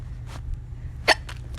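Repeated hiccups from one person: a few short, sharp bursts spaced unevenly over under two seconds, with the loudest one near the middle, standing out against a low hum and no speech.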